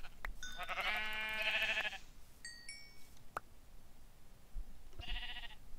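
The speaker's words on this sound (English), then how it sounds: "We found some sheep." Sheep in the Minecraft video game bleat twice, a long wavering bleat followed later by a shorter one, with a few small game clicks and blips in between and no talk.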